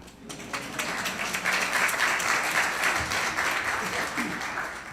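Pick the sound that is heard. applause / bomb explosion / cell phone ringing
applause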